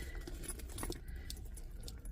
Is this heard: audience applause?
no